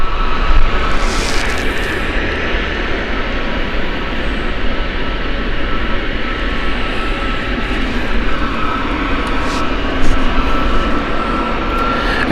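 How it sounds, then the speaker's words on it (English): A China Eastern Boeing 777 jet roars steadily and loudly at an airport, with a broad, sustained engine rumble that holds for the whole stretch, and no voices. "Look at this China Eastern 777 here, lovely aircraft"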